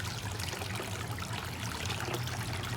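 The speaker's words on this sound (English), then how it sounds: "Immediately when you open the faucet for the hot water" Hot spring water runs from a faucet into a tub at a private onsen in Osaka, Japan, a steady, close, splashing rush with no voices.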